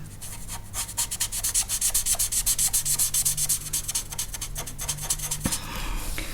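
Dry, scratchy rubbing of a colored pencil on coloring-book paper, with fast back-and-forth strokes continuing steadily and close up.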